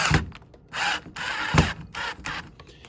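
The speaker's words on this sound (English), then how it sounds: "what I like to do is I'll use the drill" A power drill driving a screw while assembling a retractable pet gate whirs in short bursts with brief pauses between, mixed with clicking and ratcheting clacks, close and fairly loud.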